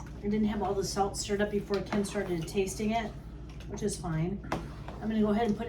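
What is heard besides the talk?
None of the usual background noises is heard.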